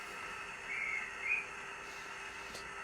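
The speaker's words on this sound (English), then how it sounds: "Function 9 is the guard's whistle." Guard's whistle from a Bachmann Fowler 7F model locomotive sound decoder: two short, fairly faint high-pitched peeps in quick succession over a soft steady hiss.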